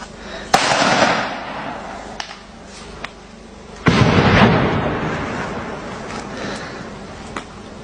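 Wartime shooting outdoors: two sharp, loud blasts with long rumbling tails, separated by a few seconds, plus a few fainter distant pops in between.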